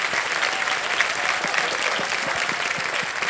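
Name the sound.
studio audience applause on KBC game show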